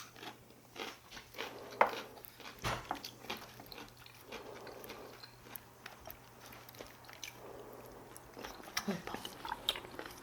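Eating spicy stir-fried squid: faint, close-up crunching and chewing bites, with soft scattered clicks and mouth sounds.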